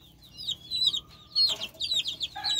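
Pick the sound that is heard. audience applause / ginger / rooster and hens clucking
rooster and hens clucking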